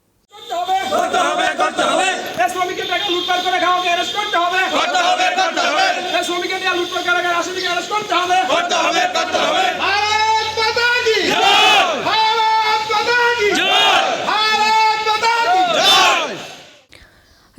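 A crowd chants slogans in unison inside a police station in Agartala, loud and close, with rhythmic repeated shouted phrases throughout, fading at the end.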